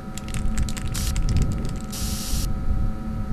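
Two short hissing bursts from a black spray paint gun in a backrooms video game, the second longer, over a low background hum and faint clicking.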